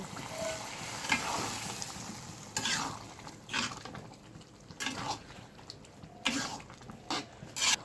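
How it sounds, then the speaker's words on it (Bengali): Cumin seeds and chopped onion crackle in hot oil as a tempering is poured into cooked dal, a hissing sizzle broken by several sharper bursts of spattering and stirring. "সামান্য একটু জিরে দিয়ে দেবো। ডালের ভিতর দিয়ে দেবো বাগার দিয়ে।"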